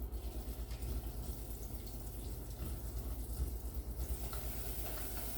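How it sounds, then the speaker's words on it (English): Butter added to hot salted caramel in a pan gives a continuous soft bubbling and sizzling hiss, steady and fairly quiet throughout with small irregular pops. "You're going to hear it bubble and sizzle."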